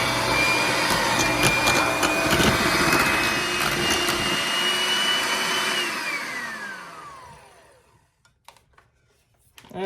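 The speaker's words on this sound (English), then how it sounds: "I am just going to mix this with a hand mixer to make it nice and smooth" An electric hand mixer whirs steadily at high speed while blending a smooth base mixture, a loud close drone that winds down in pitch and stops near the end, leaving a few faint clinks.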